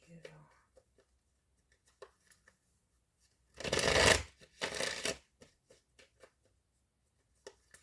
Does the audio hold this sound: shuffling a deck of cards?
yes